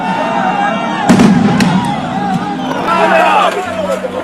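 Fireworks crack and bang amid a street protest crowd on Al-Quds Day, a sharp burst followed by sputtering pops over loud crowd hubbub and shouting voices.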